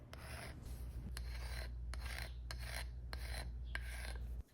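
Card scrapers rasp across grain filler on red oak in a steady back-and-forth rhythm of about seven strokes, close and faint, with no talking.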